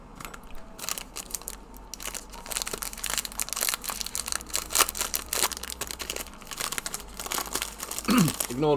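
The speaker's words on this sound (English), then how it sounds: "Ignore the rustling, guys. I'm just busting open a pack of Jaffa cakes." A pack of Jaffa cakes being torn open beside a coffee, loud close crinkling and crunching of plastic wrapper in irregular bursts, with a few brief voice sounds mixed in.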